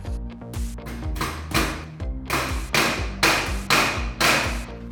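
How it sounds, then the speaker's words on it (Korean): Small nails under 50 mm are driven into wood with Picard and Stanley hammers, one after the other. Repeated sharp, ringing metallic strikes come in quick bursts, close and loud, with no talking. "두 가지 제품으로 번갈아 가면서 50mm 이하의 작은 못을 몇 개 박아보았는데요"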